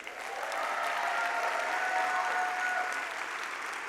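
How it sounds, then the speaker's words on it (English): Applause from a concert audience at a high school spring concert, swelling in after a moment and holding as a steady, full wash of clapping with no talk. "I'm going to make you clap again."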